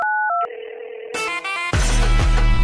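A telephone keypad dials a short sequence of a few quick beeping tones, then loud music starts abruptly.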